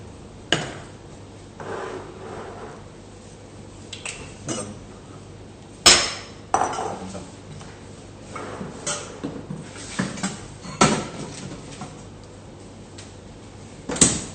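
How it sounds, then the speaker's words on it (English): Chocolate ganache being stirred together with butter in a bowl, heard as scattered clinks, taps and scrapes of a utensil against the bowl at irregular intervals, fairly quiet and close, with no one talking. "Then I combine it with my butter, and I'm going to go mix this"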